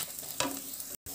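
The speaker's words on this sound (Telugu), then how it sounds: "ధనియాలు మిరియాలు జీలకర్ర గసగసాలు అన్నీ వేసేసి వేయించుకోవడమేనండి లో ఫ్లేమ్లో పెట్టుకొని" Coriander seeds, black pepper, cumin and poppy seeds dry-roasting on a low flame for idli sambar, giving a soft steady sizzle with a brief stir scrape, alone and near.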